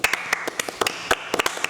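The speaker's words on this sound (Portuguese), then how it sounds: "Uma salva de palmas para nós." Scattered handclaps from a couple of people at home, about a dozen sharp, irregular claps close by with no talk.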